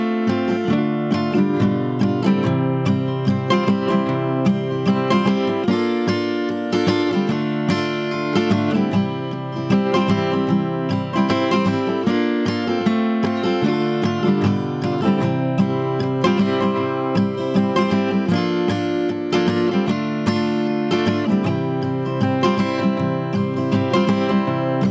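Guitar plays the instrumental bridge of a song at a slowed tempo, steady strummed chords ringing on continuously and loud with no one talking.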